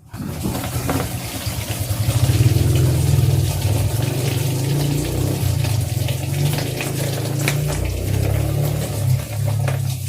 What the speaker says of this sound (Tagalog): Buksan natin yung drain plug para ma-drain natin yung coolant.